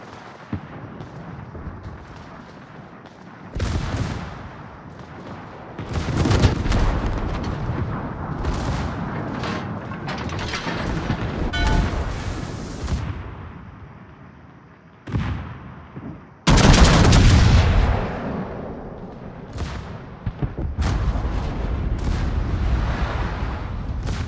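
Naval guns boom in a video game sea battle, with repeated heavy blasts and rolling explosions, some in quick bursts, separated by quieter stretches of rumbling background, loud and close.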